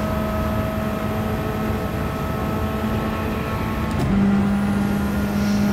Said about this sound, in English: because of all the turbo noises, all the huffing and puffing